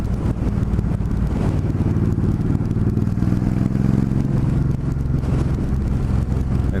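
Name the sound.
motorcycle exhaust rumble with worn baffle fiberglass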